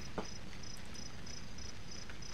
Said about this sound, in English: Oh, here crickets.